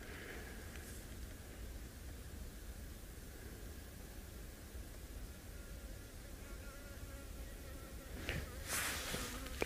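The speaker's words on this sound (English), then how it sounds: "There's a fly, there's a bee." A fly and a bee buzz faintly at a live safari spot at sunrise, a thin continuous drone over steady background hiss, with a brief louder pass near the end.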